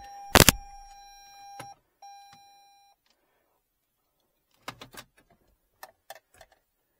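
Toyota RAV4 Prime hybrid sounding its system malfunction warning after the hybrid service plug is disconnected: a loud electronic chime, two steady beep tones, then a few faint ticks and clicks in a quiet cabin.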